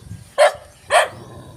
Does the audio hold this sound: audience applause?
no